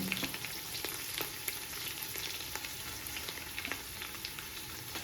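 Prawn biryani masala with onions sizzles steadily in the pan, with soft, regular stirring clicks and scrapes over the frying and no speech.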